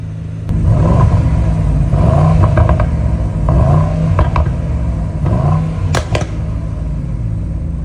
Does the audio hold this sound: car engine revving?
yes